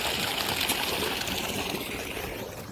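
Water from a 50mm borewell pump outlet pipe, driven by a 3000W BLDC motor, gushes steadily under pressure with a constant loud rushing hiss that fades slightly toward the end.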